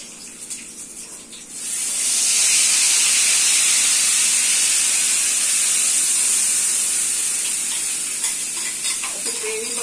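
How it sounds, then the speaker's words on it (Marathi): Gravy poured into a hot mustard-seed tempering for pav bhaji bursts into a loud, close sizzle after a quiet start, then holds as a steady, bright hiss. "अशी मोहरी तळतळायला लागली की ती मग त्या फोडणीमध्ये आपण टाकायचं हा ग्रेवी."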